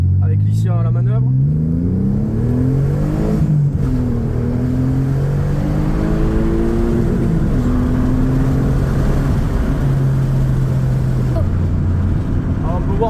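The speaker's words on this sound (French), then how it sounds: "Petit essai d'accélération là sur une route." An Alfa Romeo 147 GTA, a non-turbo car, accelerates hard on a road, its engine revving loud and close and climbing through several gear changes, with the pitch rising and dropping at each shift, under occasional talk.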